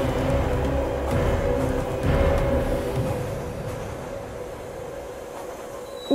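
A Minecraft train in a game film brakes with a steady low rumble, rail noise and a faint high squeal that slowly fade as it slows. No one speaks.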